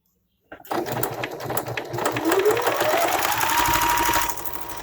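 A sewing machine stitches a fabric face mask near the edge, starting abruptly after a moment of silence and then running in a continuous loud whirring hum.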